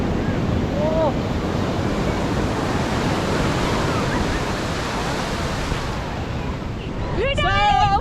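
Ocean surf rolling onto the seashore at Puri, a steady broad wash of breaking waves with wind noise on the microphone, continuous and fairly loud throughout, with faint chirping near the end.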